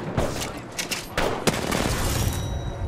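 Loud game explosion and gunfire bursts in a first-person shooter, several sharp booms and cracks over about three seconds with a constant busy background of battle noise.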